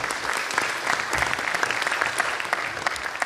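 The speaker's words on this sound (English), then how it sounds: "Yes, a round of applause." Steady, dense applause from an audience at the 2013 CITT town hall meeting, a continuous clapping wash that holds without a break.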